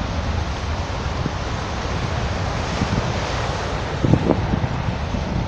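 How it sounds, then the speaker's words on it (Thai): Strong wind roars steadily across the mic on the beach near Phuket airport, a dense broadband rush with surf mixed in and a brief louder gust near the end; no talking. "ผู้ชมว่าลมมันแรงขนาดไหนนะครับ"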